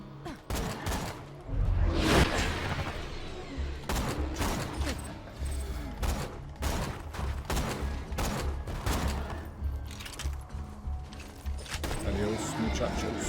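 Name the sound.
gunfire from a scoped gun in a video game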